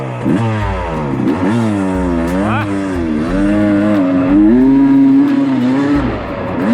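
A dirt motorcycle with a Lectron Billetron carburetor revs hard close to the microphone, the engine pitch rising and falling in repeated swells while riding uphill, loud and continuous with a rider's voice briefly audible.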